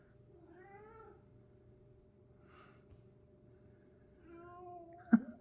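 A cat meows twice, a drawn-out cry at the start and another near the end, with a faint breathy sound in between and a short sharp knock at the close, in a quiet indoor room.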